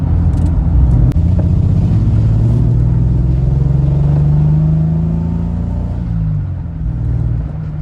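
A Triumph TR6 sports car engine rumbles loudly and steadily, rising in pitch as it revs up, then easing back down toward the end.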